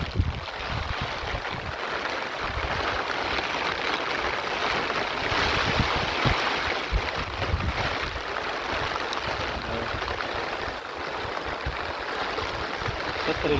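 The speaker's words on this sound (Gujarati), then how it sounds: "અટાણે પવન ને વરસાદ ને બધું ચાલુ જ છે." Heavy monsoon rain and strong wind roar together as a dense, steady wash of noise close to the microphone, continuing without a break from start to finish.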